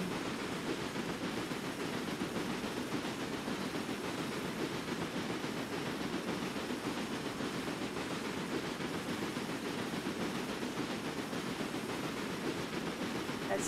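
A train runs steadily in Railway Empire's Nashville, Tennessee scenario, giving a continuous, even rolling rumble with no breaks for the whole stretch and no one talking.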